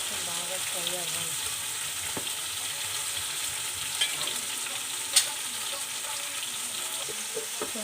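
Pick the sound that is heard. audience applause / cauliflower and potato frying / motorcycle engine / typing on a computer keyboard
cauliflower and potato frying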